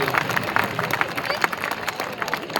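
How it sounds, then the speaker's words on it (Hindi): Audience applause and cheering for poet Shashikant Yadav at an outdoor poetry gathering, Gandhi Maidan in Kawardha; dense, steady clapping from a crowd with babble mixed in, fairly loud throughout. "एक बार जोरदार ताली भाई शशिकांत यादव जी के लिए"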